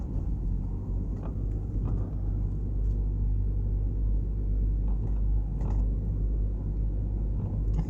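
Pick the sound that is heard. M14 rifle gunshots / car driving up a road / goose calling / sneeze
car driving up a road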